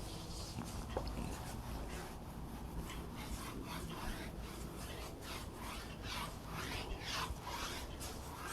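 A board being wiped clean in a maths classroom: continuous scratchy rubbing strokes, rhythmic and fairly faint, against a steady background hiss.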